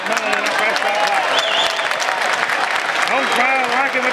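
A home crowd cheers and applauds at a high school basketball game between John Carroll and Mt St Joseph, a dense, loud, sustained roar of claps and shouts with voices talking over it throughout.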